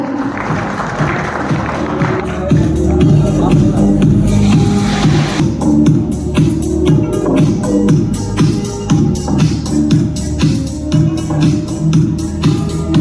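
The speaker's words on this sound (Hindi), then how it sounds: "Can we have an applause?" Audience applause at a Nortek dealer award ceremony at the Ananta Hotel in Pushkar, Rajasthan: a voice speaks at first, then the crowd's clapping builds into a rapid, sustained patter under the continuing speech.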